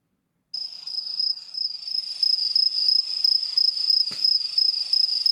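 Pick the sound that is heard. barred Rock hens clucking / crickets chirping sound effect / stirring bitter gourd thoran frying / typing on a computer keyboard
crickets chirping sound effect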